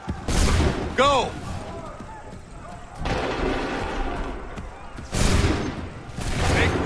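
Musket volleys crack out in a Revolutionary War battle in Assassin's Creed 3, with loud bursts of massed gunfire near the start and again near the end, while a voice shouts a command between them.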